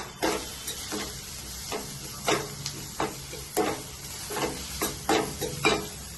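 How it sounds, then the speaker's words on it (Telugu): A spiced mixture with a pinch of cumin powder is stirred in a pan, giving a run of rhythmic scraping strokes over a low, faint sizzle. "ఇవన్నీ బాగా కలిపేసుకుందాం."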